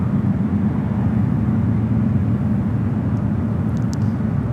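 An Airbus A380 airliner arriving at San Francisco airport gives off a steady, loud broadband jet roar that holds level the whole time with no variation.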